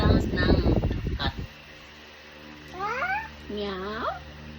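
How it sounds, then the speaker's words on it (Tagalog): A cat meows at a breakfast table, two drawn-out rising-and-falling meows following a burst of speech-like sound at the start. "Anong sounds ng cat?"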